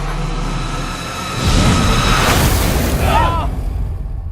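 A deep, rumbling boom swells up and lingers in a dense roar, with a faint voice-like sweep near the end.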